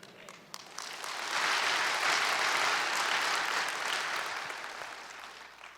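A church congregation claps together: the applause swells quickly into a dense, sustained wash, holds steady, then tapers slowly at the end.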